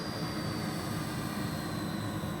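An RC model Airbus A380 taxiing at about 40% throttle gives off a steady, loud, close jet-like whine and roar that holds an even level throughout, with no voices.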